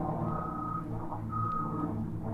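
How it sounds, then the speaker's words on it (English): A fire truck's reversing alarm beeps in a steady, evenly spaced rhythm from far off, faint over a constant low outdoor rumble near an old medical plaza in Santa Ana, California. "There's a fire truck way back out there."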